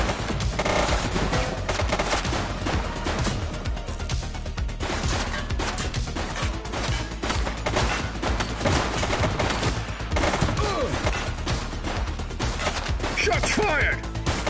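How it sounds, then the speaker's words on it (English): Rapid gunfire in the police game The Precinct, dense bursts of automatic and repeated shots crackling steadily for over ten seconds, loud and close amid game noise. "She's shooting!"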